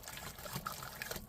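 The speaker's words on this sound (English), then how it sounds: "Throw some macaroni in there." Macaroni tipped into a pot of boiling salted water on a stove, a short burst of bubbling and soft liquid trickling and splashing, close and fairly quiet.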